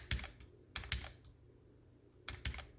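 Key presses on a Ducky One 3 Mini compact keyboard, sharp clicky clusters in three quick bursts separated by pauses, close and clear with no talk.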